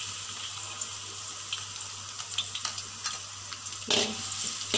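Finely chopped garlic sautéing in hot oil for mee goreng: a steady soft sizzle with light scraping and stirring, then a louder burst of hissing near the end, with no talking.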